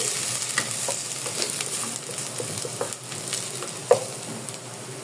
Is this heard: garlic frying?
yes